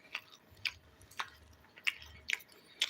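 Someone chews fried chicken up close, with several short, crisp bites and moist crunches spaced about half a second apart over a quiet background, with no talking.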